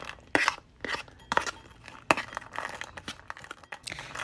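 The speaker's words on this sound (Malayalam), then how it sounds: "ഒരു പാത്രത്തിലേക്ക് ഈ ഡ്രൈ ഫ്രൂട്ട്സൊക്കെ ഇട്ട് കൊടുക്കാം" Dried fruits, cranberries and raisins, tipped into a bowl, giving a series of sharp irregular clicks and crinkly rustles, close and fairly quiet, with gaps between handfuls.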